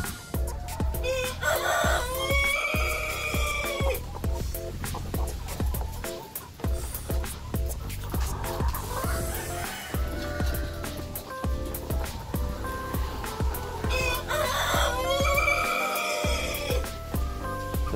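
RTL laying chickens in battery cages on an egg farm cluck and crow loudly throughout, with several crowing bursts and constant overlapping fowl calls filling the scene.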